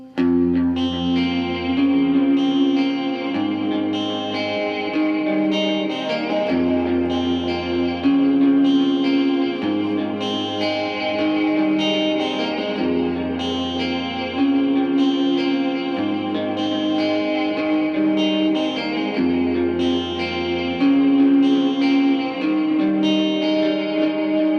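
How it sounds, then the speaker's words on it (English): Electric guitar playing the arpeggiated verse part of a song through effects, with shimmering chorus, echo and reverb on steady picked notes over low sustained bass tones, continuous and close, no talking. "For verse 1, we have that nice arpeggiated part."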